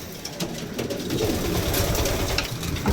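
Racing pigeons cooing in a crowded loft, soft overlapping throaty coos and rustling from many birds close by, steady and continuous.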